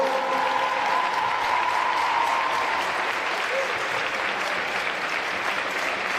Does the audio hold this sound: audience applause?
yes